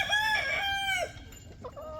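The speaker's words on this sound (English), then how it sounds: "We got that rooster over there." A rooster crows up close on a small homestead farm, one long, loud cock-a-doodle-doo with rising and falling harmonic tones, followed by a few softer clucks.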